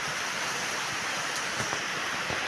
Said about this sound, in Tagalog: Tinutubigan na po ulit yung halo.